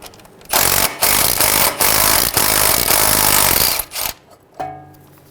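A 12mm socket on a power wrench spins out the brake line bracket bolt on a 2003-2008 Honda Pilot front suspension, producing loud, harsh whirring bursts separated by short pauses and ending in a fainter rattle.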